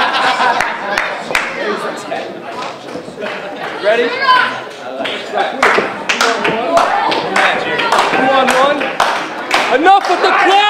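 Wrestling fans at a Lucky Pro Wrestling show in Hudson, Massachusetts clap in loose, uneven bursts, sharp individual claps close by over a murmuring crowd, with people talking and shouting throughout.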